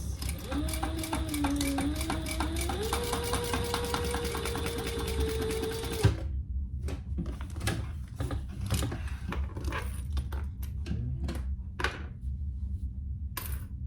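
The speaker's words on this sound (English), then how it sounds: "come right back down the same stitches." A sewing machine back-stitches over the same line of stitches on a wristlet bag, humming steadily up close for about six seconds, then stopping, followed by scattered clicks and handling knocks.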